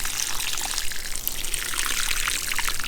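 Vitamin B solution pours from a container into water for watering roses, making a steady, close trickle that continues evenly for several seconds without speech.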